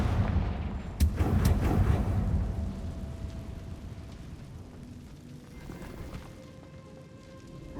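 Confringo fire spell blasts from the Hogwarts Legacy video game on Xbox: a sharp bang near one second, then a rumbling burst of booms that fades into a softer, lingering crackle and ringing tones.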